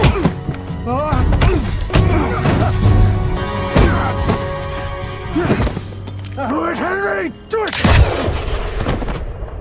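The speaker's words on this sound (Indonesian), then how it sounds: "Jacob pun tewas setelah Henry menembaknya dari belakang" Gunshots in a 2025 western film, The Unholy Trinity: several sharp, loud cracks ring out over a dense orchestral score, with scattered booming impacts throughout.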